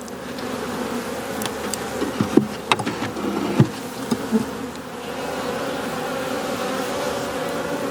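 A dense, steady hum of many honey bees buzzing close by at the hive, with individual insects zipping past now and then, no voices.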